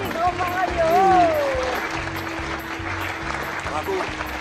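Circus audience applauding the performer Mario, a broad wash of clapping that swells early and carries steadily on, mixed with a loud tonal whistle-like melody and low musical hum.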